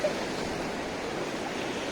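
Steady broadband rush of surf, a continuous wash of waves without breaks or voices.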